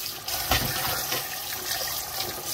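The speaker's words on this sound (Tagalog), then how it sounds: "hugasan ang dahon sa kalabasa" Squash leaves are washed by hand in water, a steady close splashing and rushing of running water with faint handling sounds, no voices.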